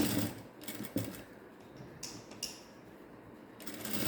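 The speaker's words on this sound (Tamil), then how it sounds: "பேக் தட்டில் இந்த டக்கை நம்ம பிடிக்கிறோம்." A sewing machine stitching a tuck into the back of a pair of ladies' elastic-waist pants, with quiet mechanical whirring and a few brief clicks and rattles at close range, fairly soft overall.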